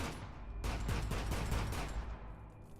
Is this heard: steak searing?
no